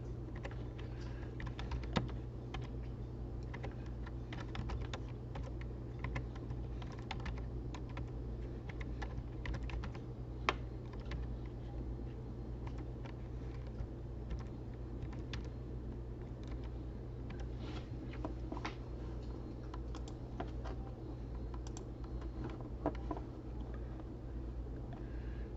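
Computer keyboard typing while entering data into an Excel spreadsheet, quiet irregular key clicks and taps in short runs over a steady low hum.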